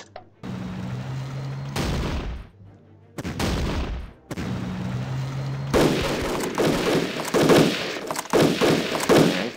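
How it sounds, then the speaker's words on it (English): Artillery firing in the World War II strategy game Battle Academy 2: Eastern Front, a few heavy booming blasts with long decaying tails, then denser rumbling explosions near the end, loud and up close. "The artillery is firing at our infantry, which is good."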